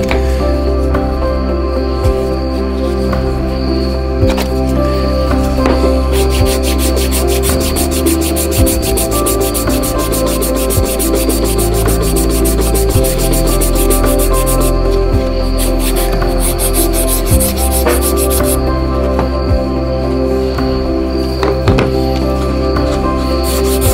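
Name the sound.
sanding wooden knife handle scales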